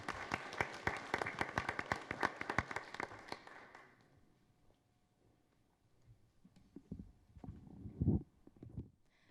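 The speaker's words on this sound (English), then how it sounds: "Big round of applause for our new representative from El Camino High School, Ashley." Applause for a new high school student representative at a school board meeting, a scattered round of clapping that fades out after about four seconds, followed by faint shuffling and low rumbles.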